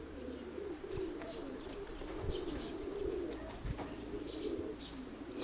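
Pigeons coo in a steady, low murmur that rises and falls, with a few faint higher chirps from other birds scattered over the top.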